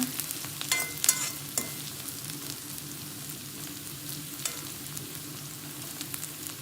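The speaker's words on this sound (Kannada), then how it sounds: "ನೋಡಿ ಫ್ರೈ ಆಗ್ತದೆ." Chicken frying in a pan for a cashew chicken fry, a soft continuous sizzle with occasional stirring clicks and scrapes, fairly quiet and steady with no voices.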